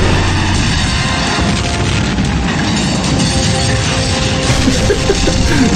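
A loud, dense explosion rumble with crashing debris fills a stunt car chase movie trailer, sustained and booming throughout with no talk.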